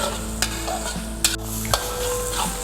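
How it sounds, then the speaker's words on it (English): Masala sizzling in oil on a stovetop while being stirred, a steady frying hiss with a few sharp clinks and scrapes of a spoon against the pan. "We will cook it for another 1 or 2 minutes till oil separate."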